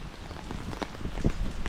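Rain falling steadily on a surface during a rainy day outdoors, a soft continuous patter with scattered nearer drops and a heavier splash or thud near the end.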